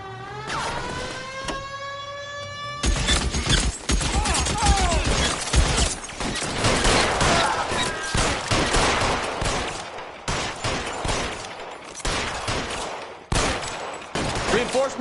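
Rapid gunfire from a police car chase shootout in the L.A. Noire game, bursts of shots crackling loud and close over engine and crash noise after a rising tone, with occasional voices.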